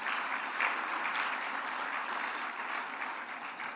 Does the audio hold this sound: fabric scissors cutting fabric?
no